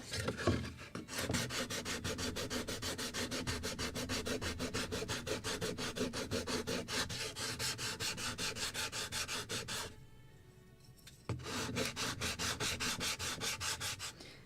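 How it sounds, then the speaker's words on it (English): Walnut planking on a wooden model lobster smack hull is sanded by hand, making rapid, rhythmic back-and-forth rasping strokes, close and steady, with a brief pause near the end before the strokes resume. "Can sand a little more in the stern."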